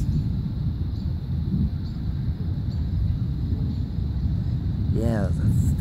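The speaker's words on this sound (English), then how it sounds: "that's rolling thunder" Rolling thunder from a powerful thunderstorm rumbles continuously, a deep unbroken low roar with wind buffeting the microphone, and a voice briefly speaks near the end.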